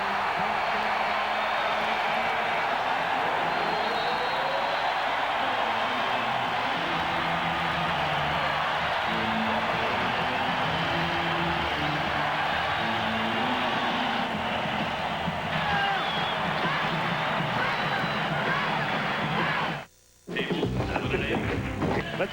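Dense, roaring crowd noise from a packed basketball arena during a 1994 NBA playoff game between the Rockets and Blazers, sustained and loud for many seconds, with excited announcer talk over it before an abrupt cut.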